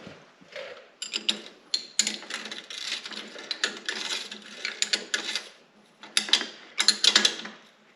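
Bolts on a Ski-Doo Renegade XRS suspension are tightened by hand with a ratchet, giving close, clicking bursts of ratcheting separated by brief pauses.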